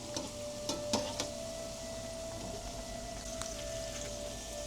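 Vegetable pakoras fry in hot oil with a soft, steady crackle and a few sharper pops and clicks, fairly quiet and close, with no one speaking.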